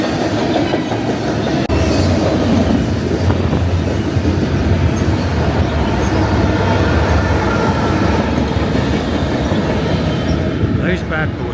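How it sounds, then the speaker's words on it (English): A long freight train carrying around a hundred container wagons rolls past in Flagstaff, Arizona, a loud, close and continuous rumble with clattering wheels, while people talk faintly over it. "This is the train that keeps coming."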